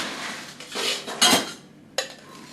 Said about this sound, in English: and then we're going to add ice